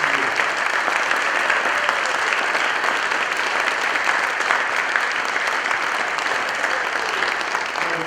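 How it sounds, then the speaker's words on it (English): Sustained, loud applause from a standing crowd at a university athletics Hall of Fame ceremony, a thick wash of clapping holding steady for several seconds without a break. "Just please stand for a final round of applause."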